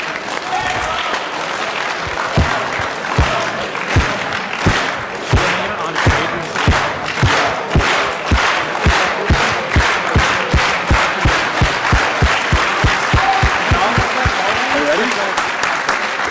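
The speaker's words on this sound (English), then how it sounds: "let's get a slow clap going for these demos." A hackathon audience at MHacks Refactor closing demos builds a slow clap: loud, evenly spaced unison claps that gradually quicken, with a wash of crowd noise between beats.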